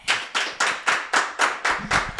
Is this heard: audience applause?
yes